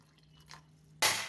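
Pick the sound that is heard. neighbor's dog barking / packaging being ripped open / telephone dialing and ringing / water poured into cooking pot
water poured into cooking pot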